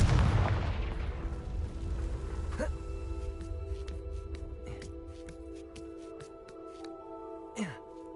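Confringo blasting spell from the Hogwarts Legacy video game, a loud booming explosion at the start that rumbles and fades, followed by a few smaller crackling pops and a brief burst near the end.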